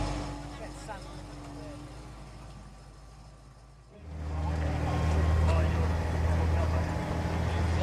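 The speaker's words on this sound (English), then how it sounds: "Number 31 is a 1926 Alfa Romeo. This car was in fact Enzo Ferrari's personal racing car." A 1926 Alfa Romeo racing car drives past on a hill, its engine rising suddenly from a distant murmur to a loud, steady low drone that holds for several seconds.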